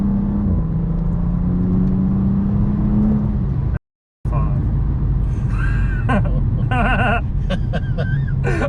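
A BMW 435i engine with bolt-on upgrades revs hard and climbs in pitch, dropping between shifts as the tires lose traction, with excited voices talking over the roar; a brief silent gap interrupts midway.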